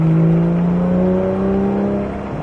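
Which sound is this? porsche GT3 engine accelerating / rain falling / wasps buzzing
porsche GT3 engine accelerating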